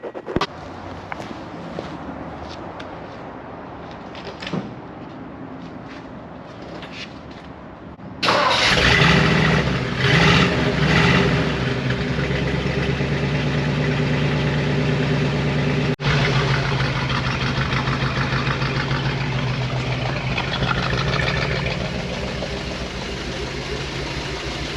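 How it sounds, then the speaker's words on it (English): A Ford Fairlane barn find, parked for over 25 years and fitted with a new exhaust manifold, cranks and fires up after some quiet shuffling, then settles into a loud, steady, close-up idle that continues to the end. "Now let's see how this starts up and runs and take it for a drive."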